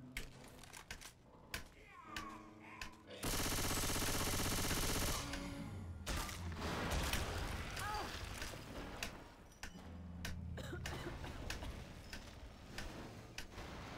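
Rapid gunfire aimed at a Smoker in Left 4 Dead 2, a dense rattling burst of shots up close, with scattered clicks and game noise around it and a voice speaking.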